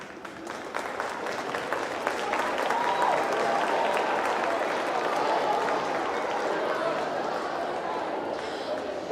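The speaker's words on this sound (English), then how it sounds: "I told them you would probably clap for that" An audience claps steadily at a district school band festival concert, a dense, even wash of applause that stays loud and full throughout with no music.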